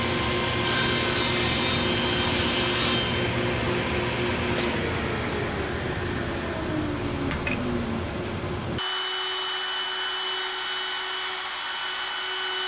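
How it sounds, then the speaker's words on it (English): Table saw with a miter gauge cutting wooden frame pieces, a loud steady whine and rasp of the blade through the wood, close by, running for several seconds before stopping abruptly into quiet motor hum. "I cut them very carefully on the table saw using the miter gauge."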